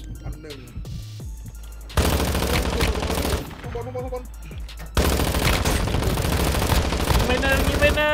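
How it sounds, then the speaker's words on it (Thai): Loud bursts of automatic gunfire in Warzone Mobile come in two sustained volleys separated by quieter stretches with scattered shots and game effects. "ใครยิงอ่ะ"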